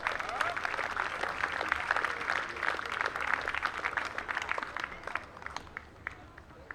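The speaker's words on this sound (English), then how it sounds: "let's give them all a big round of applause." A crowd at a Newport Gulls summer baseball game against the Danbury Westerners claps steadily in a dense, crackling wash that thins and fades toward the end, with some voices mixed in.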